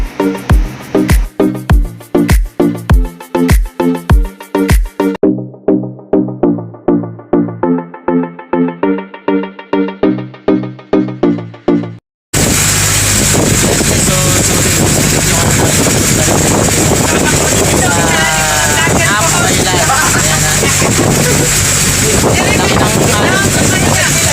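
A boat crossing big sea waves in strong wind, heading back from Apo Island toward Malatapay. Plucked music plays for the first half, then a loud, steady roar of wind and engine takes over to the end.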